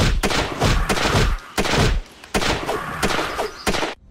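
Rapid gunfire from the mobile zombie-escape game Escape Countdown 24 Hours cracks out in loud, dense bursts, several volleys separated by short gaps, close and punchy with no talking over it.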